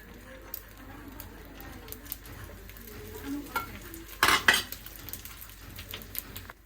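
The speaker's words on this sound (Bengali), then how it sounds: "প্রথমে ডিমটা ভেজে নেই" An egg frying in a pan for breakfast, a faint low sizzle broken by brief utensil clinks and a sharp metallic scrape partway through.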